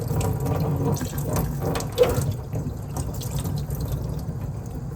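A French press cafetière rinsed under a running kitchen tap, with a steady stream of water hissing and splashing close by, a brief clink midway, and no talking.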